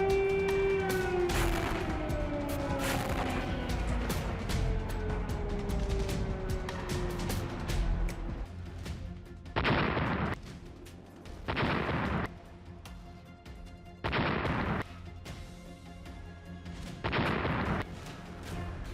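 Artillery fire and explosions during Israeli strikes on Lebanon: a long rumbling roar with a falling whine at first, then several heavy bursts of booming fire at intervals.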